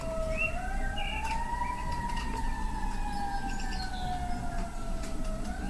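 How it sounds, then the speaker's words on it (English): Fire truck sirens wail at a distance, a steady rising and falling tone that carries over faint traffic noise with no voices. "Wow, those are fire sirens."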